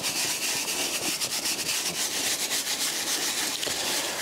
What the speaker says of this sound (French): vous agitez le produit sur la surface à nettoyer